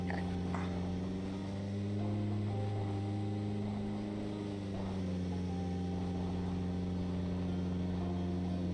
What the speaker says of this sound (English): Listen to the horrible sounds of our engine as we drive on roads clearly it's not designed